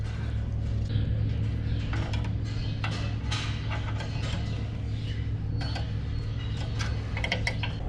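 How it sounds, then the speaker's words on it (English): Small bolts being worked out of a scraper in a barn with a slatted floor: scattered metallic ratcheting and clicking over a steady low mechanical hum, close by, with no talking. "I just have to take these two little bolts out."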